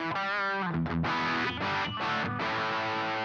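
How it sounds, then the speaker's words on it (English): Electric guitar played through a Boss ME-90 multi-effects unit on a distortion/fuzz setting with the amp's mid-range turned down, thick sustained chords with brief gaps between strums, loud and close with no talking. "it's kind of distortion, but it's kind of fuzz"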